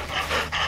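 A young black Labrador pants close to the microphone, three quick breathy huffs in a row, with no talk over them.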